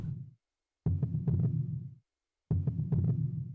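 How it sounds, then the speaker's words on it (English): Two slow heartbeat thumps, each a cluster of deep throbbing pulses, sound from Phantasy Star Universe: Ambition of the Illuminus, separated by short silences and heard alone without talk. "Like the heartbeat sound."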